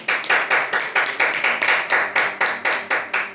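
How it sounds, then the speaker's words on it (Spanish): A church congregation applauds in steady rhythmic unison claps, about four per second, loud and close in a warm worship hall, with no talking over it. "Denle un aplauso al Señor"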